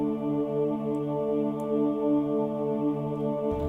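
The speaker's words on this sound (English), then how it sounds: "And then there's also what's called a bandpass filter," A steady Omnisphere 2 synthesizer pad plays through a bandpass filter, giving an even, buzzy, layered tone that holds at constant loudness for a few seconds before a brief change right at the cutoff.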